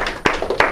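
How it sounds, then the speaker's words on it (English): A class claps for students after a physics demonstration, a few separate sharp claps spaced out over less than a second, close and fairly loud. "give a big round of applause for these guys"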